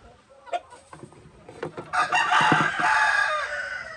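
A tinapulan rooster on a farm crows close by, with clucking and other fowl sounds before it. The crow swells loud in the last two seconds.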